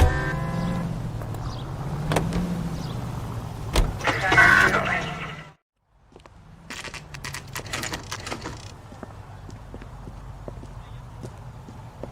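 Car driven in the L.A. Noire video game, a steady engine hum with door and key clatter and hoof-like clopping, briefly cutting out before the drive resumes alone.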